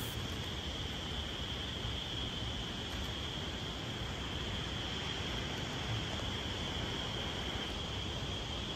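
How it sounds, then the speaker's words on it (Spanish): Cicadas shrill intensely beside a river, a steady high buzzing drone layered over constant broadband rushing water, loud and unbroken throughout with no voices. "Aparte del sonido del río, se escucha muy, muy intenso el sonido de las chicharras."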